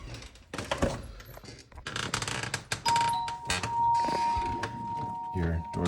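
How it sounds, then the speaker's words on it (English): A house door chime rings out as the front door opens, a sustained tone holding for a couple of seconds amid footsteps and door handling, with a person talking nearby. "Your door chime."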